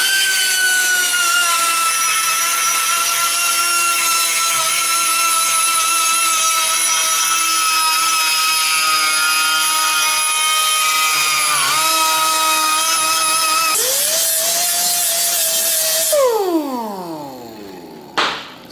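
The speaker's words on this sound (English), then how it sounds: "die grind the inside, file the inside" A die grinder deburrs the inside of a steel pipe, a loud steady high-pitched whine with grinding rasp that dips briefly, then spins down near the end.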